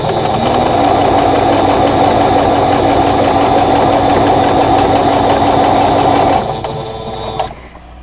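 A sewing machine stitches squares and rectangles of quilting fabric along their raw edges, running in a loud, steady whir for about six seconds before slowing and stopping.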